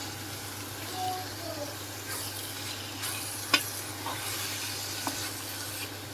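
Tomatoes, green chillies and garlic go into a frying pan of bitter gourd, giving a steady low sizzle with a few scrapes and clinks of stirring, heard close and fairly quiet with no talk.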